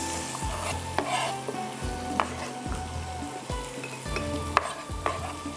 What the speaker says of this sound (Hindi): बस इसको थोड़ा सा हम भूनते हैं।